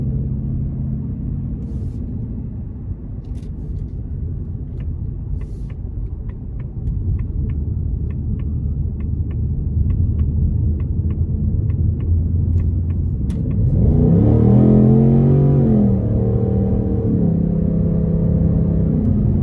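A 2024 Ford Mustang GT Premium with its 5.0 V8 in normal mode idles with a low rumble, then surges into a loud, rising acceleration pull near the end, heard close from inside the car.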